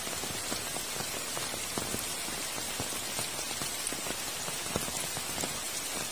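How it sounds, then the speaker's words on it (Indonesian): Rain pours on a remote Javanese village, a dense, even patter of drops striking nearby surfaces that holds steady throughout, with no voices. "suasana desa terpencil saat diguyur hujan"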